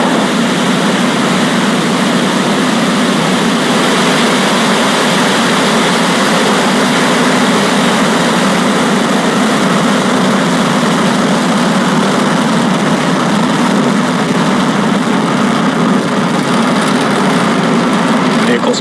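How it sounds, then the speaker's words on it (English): SpaceX Falcon 9 rocket carrying Starlink satellites ignites and lifts off, its Merlin engines producing a loud, steady, broadband roar that fills the whole span without letup. "Ignition and liftoff."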